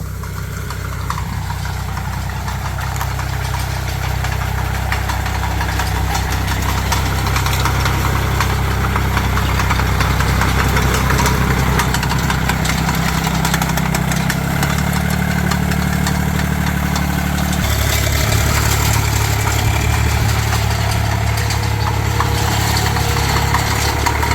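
Engine of a pesticide sprayer truck runs steadily during a system test, a loud, continuous mid-pitched rumble with vibration and no talking over it.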